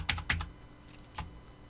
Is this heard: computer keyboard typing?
yes